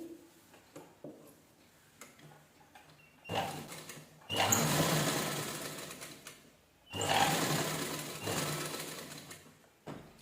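A hand-cranked sewing machine stitches a facing strip along the neckline of an unlined princess blouse, starting with light ticks and clicks, then two loud close bursts of rapid rattling stitching with a short pause between.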